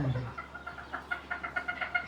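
Foreign-breed chickens cluck on a poultry farm in a run of short, fairly faint, repeated calls that quicken slightly toward the end.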